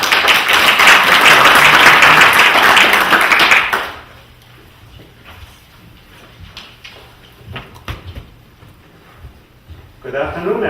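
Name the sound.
audience applause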